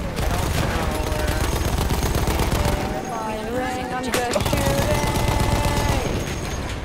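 Gunfire in Battlefield 1 rattles in rapid, continuous machine-gun bursts throughout, briefly thinning midway before resuming, set against ringing game tones and a voice talking over the action.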